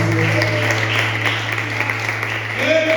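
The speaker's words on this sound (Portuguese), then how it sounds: "Dê uma linda salva de palmas para Jesus." A church congregation applauds in a steady, dense patter over a sustained low musical hum, staying fairly loud throughout.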